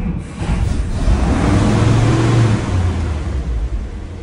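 An old blue truck engine cranks over and catches, then revs steadily, a loud, continuous mid-pitched rumble close to the listener with no talking.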